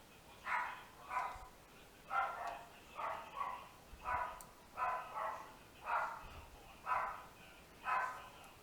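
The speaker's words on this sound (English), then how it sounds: "Sorry if you hear my dog." A dog barks repeatedly in the background at a fairly steady pace, about ten muffled barks over several seconds, faint and somewhat distant, with no talking over it.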